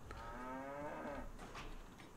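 Cattle being loaded at a railway station in the Railway Empire game give one clear drawn-out moo that fades into a low second call, heard softly over a steady game ambience.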